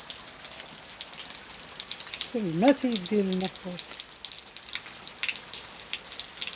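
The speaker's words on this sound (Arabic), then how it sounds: "ها نتوما خواتاتي الشتا واش عندنا من البارح" Steady rain falls outdoors in France, a constant close patter and hiss on surfaces, while someone speaks briefly partway through.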